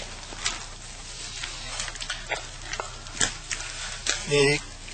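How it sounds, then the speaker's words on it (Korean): Cake batter with pineapple pieces mixed in being stirred in a bowl for a Hawaiian cake, soft scraping and clacking strokes at a close, moderate level, with a brief louder scrape near the end. "충분히 섞어가지고요."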